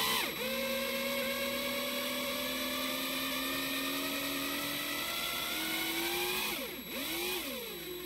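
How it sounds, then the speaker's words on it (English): A power drill runs in reverse to untwist music wire, giving a steady motor whine that holds for about six seconds, then dips and spins back up near the end. "Now what I'm gonna do is put the drill in reverse. I'm gonna go backwards like 10 turns."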